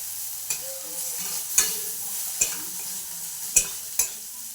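Sliced bitter gourd sizzles steadily as it fries in a pan, with a spatula scraping and knocking against the pan every second or so.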